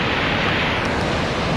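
A 200-foot waterfall at Havasupai roars in a loud, continuous broadband rush, with wind buffeting the microphone throughout.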